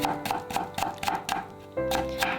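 Knife chopping cucumber and chili into julienne on a cutting board, about ten quick, crisp taps at a steady rhythm with a faint ringing clink, close and clear.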